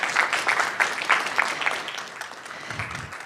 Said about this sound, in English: Just another round of applause for everyone